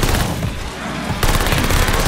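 Rapid automatic gunfire in Call of Duty Vanguard Zombies, a dense loud burst of shots that eases briefly, then resumes in fast continuous firing.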